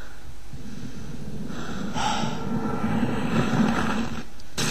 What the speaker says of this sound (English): Gordon's breathing.